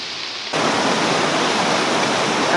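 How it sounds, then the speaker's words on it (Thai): Steady, dense rainfall on a high mountain hisses loudly after a brief quiet start, a continuous broadband wash with no voices. "ฝนตก"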